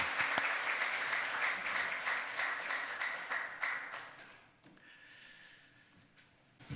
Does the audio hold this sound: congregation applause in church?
yes